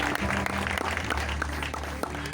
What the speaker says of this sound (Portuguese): desocupa as suas mãos e aplauda Jesus